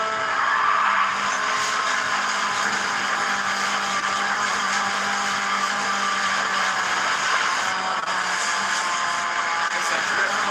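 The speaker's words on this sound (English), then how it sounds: "It's a drift car." A drift car slides and skids in a video game set at an airport garage, a steady, loud rushing tire-and-engine roar that runs without a break for the whole stretch, with no voices over it.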